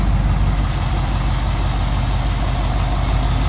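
A large truck with 42-inch rims idles at a truck show, its steady low engine rumble running continuously and fairly loud throughout, with no voices over it.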